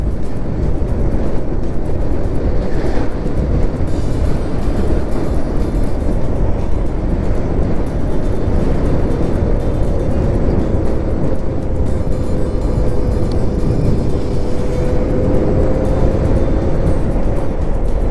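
An electric vehicle cruises at about 65 to 67 km/h in normal mode along a road through Pazhayannur forest, giving a loud, continuous hum of tyres and wind with no talk.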